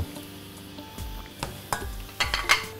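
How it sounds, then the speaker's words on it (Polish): Vegan, gluten-free samosas frying in a pan of hot oil, a steady close sizzle punctuated by several sharp clinks and scrapes of stirring, with no talk. "a kolejne wrzucamy do smażenia"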